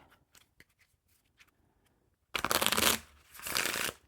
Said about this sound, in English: if I was to like riffle it, the design would get all mixed up